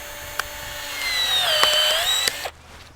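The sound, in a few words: cordless 12 volt pruning tool cutting pine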